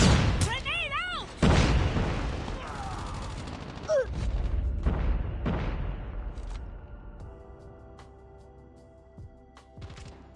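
Grenade blast and bursts of gunfire in Call of Duty Mobile, a loud close boom followed by scattered shots and rumbling that fade toward the end, with voices talking over the action.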